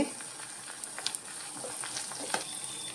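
Onions and spice powders fry in a pan for a fish-free curry, a steady close sizzle broken by light crackles and stirring scrapes, with no voices.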